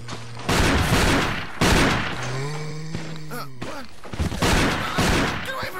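Loud gunshots from the video game Resident Evil ring out as several sharp, heavy bursts spaced across the scene, with a sustained tonal game sound between them and no speech over the shots.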